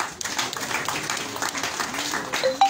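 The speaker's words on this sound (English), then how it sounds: "could we please give them a round of applause?" Crowd applause for three flag bearers at a National Unity Platform gathering at the party offices, a steady patter of clapping with some voices mixed in.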